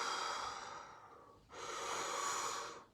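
Close, audible breathing in a quiet room: one long breathy exhale that fades, a short pause, then a deep, full inhale lasting over a second.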